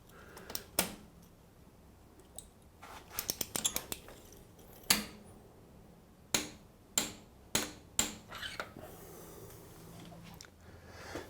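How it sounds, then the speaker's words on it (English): Ratcheting a torque wrench on a nut of a Moto Guzzi Le Mans engine during cam chain refitting: sharp metallic clicks, some in quick clusters, others spaced apart, close and crisp over quiet background. "Now this nut has to be done up somewhere between 48 and 52 foot-pounds, so I've set that on my torque wrench."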